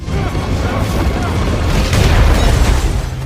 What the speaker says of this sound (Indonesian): Sarah menabrak mobil anak buah Dekom yang terpental dan meledak di sambar petir.